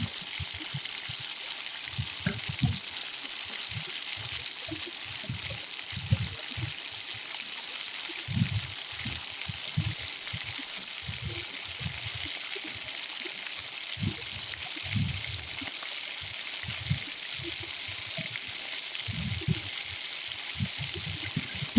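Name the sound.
frying potato flower pitha snacks in oil in a wok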